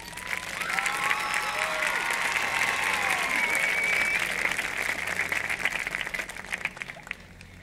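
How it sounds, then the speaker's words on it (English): An audience at a high school awards show for a marching band invitational claps loudly and steadily, with scattered cheers and whoops over the applause that slowly fades. "So please give yourselves a round of applause."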